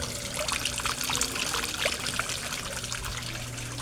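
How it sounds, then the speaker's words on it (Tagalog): A submersible water pump in a koi pond churns water, producing a steady, faint trickling and bubbling splash that continues evenly without pause. "ang submersible pump ko, ang water pulse, oh, ang lakas-lakas"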